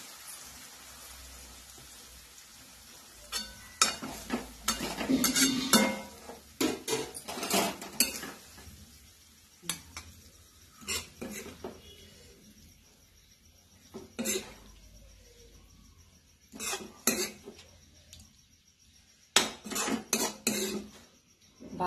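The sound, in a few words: serving cooked bean bhaji from pan into a bowl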